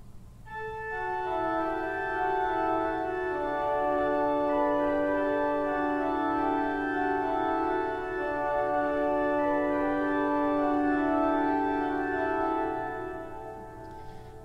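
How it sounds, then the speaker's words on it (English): Sustained pipe organ ostinato from the last movement of Widor's Symphonie Romane, a dense held chordal texture rich in harmonics, steady and full for the whole passage as the final climax subsides, with no voices. "As the energy of the final climax in the last movement subsides, you will hear this ostinato."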